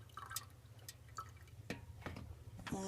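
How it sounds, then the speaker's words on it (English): Warm water poured into a Whirlpool bottom-freezer refrigerator's drain hole, freshly cleared of an ice plug, makes scattered soft drips and trickles, quiet and close, over low background hum. "now I'm going to take some warm water and pour it in that hole"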